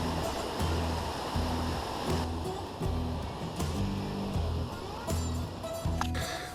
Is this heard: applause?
no